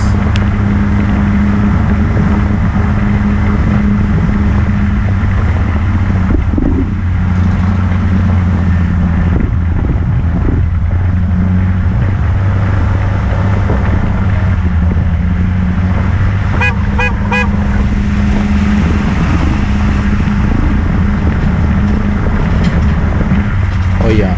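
A Honda ADV 150 motorcycle ridden on an Indonesian road trip, with a loud steady engine and wind rush, passing traffic and a few horn toots, and someone talking over it.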